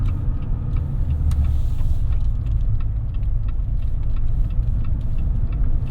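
A 2022 Jeep Wrangler Unlimited Willys engine drones steadily from inside the cabin while driving, a dense low rumble with road noise holding constant throughout, plus faint ticks near the start.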